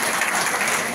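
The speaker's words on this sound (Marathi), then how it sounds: "मग जोरात टाळ्या वाजवा जरा" A seated audience at a political meeting claps together in a dense, sustained burst of applause that stays even and fairly loud for its whole short length.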